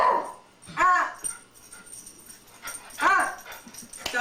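A dog barks in short, sharp yips in two bursts, close and fairly loud, with whimpering tones and people talking in the background.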